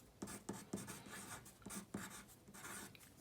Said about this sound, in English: These are pencil strokes